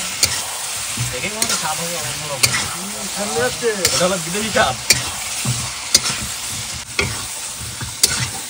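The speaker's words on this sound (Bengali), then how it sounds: "আজকে আলুটা ভেজে নিই মশলার সঙ্গে, এখন আলুটা দিয়ে দেবো।" Potatoes fry with spices in a pan, with a loud, steady sizzle broken by regular sharp scrapes and clacks as the spoon stirs through them.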